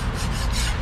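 Continuous close rasping scrape of old gasket material being peeled and scraped off a GMC 2500 differential cover, a steady gritty rubbing texture with no talk.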